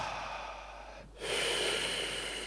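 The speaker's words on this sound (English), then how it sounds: "breathing in through the mouth, filling up our lungs and our belly," A single deep breath through the mouth during a breathwork session, a long airy inhale that swells to a louder, fuller draw, close and alone.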